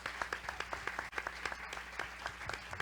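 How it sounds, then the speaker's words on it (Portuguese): An audience applauding after a talk at an education journalism event, dense rhythmic clapping from many hands, fairly faint and steady throughout. "agora é hora de vocês aplaudirem"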